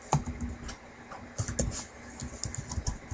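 Typing a router configuration command on a computer keyboard during a Packet Tracer networking exercise: rapid, close, uneven key clicks in quick bursts across the whole stretch, with no talking.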